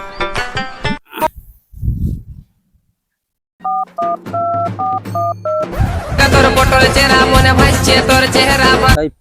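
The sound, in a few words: telephone dialing tones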